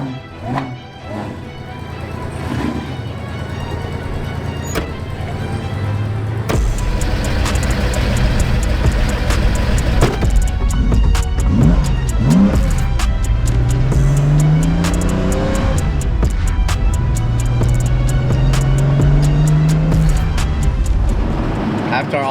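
An original Nissan Skyline Hakosuka GT-R with its S20 engine drives along, the engine loud and close as it revs and climbs through the gears under people talking.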